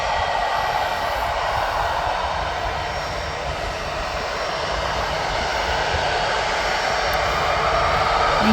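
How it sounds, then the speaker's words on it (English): An EasyJet Airbus A319-100 jet at Birmingham airport, a loud steady engine roar and broadband rush sustained throughout with no voices. "So I'm going to drop back onto this EasyJet A319-100"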